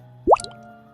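A single water drip lands with a sharp, close, upward-pitched plop, then a faint tail, over a quiet hum in a hallway; no talking.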